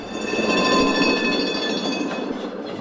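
Vintage trolley streetcar running along Market Street in San Francisco, a continuous loud rumble of rolling wheels on rails with high, sustained metallic squeals, close by and without talking.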